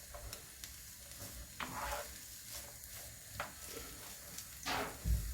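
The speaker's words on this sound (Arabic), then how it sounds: "رايحين نحمص البصلة لحتى يصير لونها ذهبي مثل ظهر الزيت" Chopped onions browning in hot oil in a home kitchen pan, a soft continuous sizzle broken by occasional scraping stirs and clinks of a utensil, fairly quiet with no talking.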